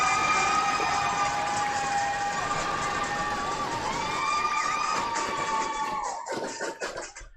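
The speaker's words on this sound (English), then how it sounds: "there's the cheer" Crowd noise fills a youth under-14 ice hockey arena as Comets fans cheer, a steady broad roar with whistling tones running loud for about six seconds before fading off.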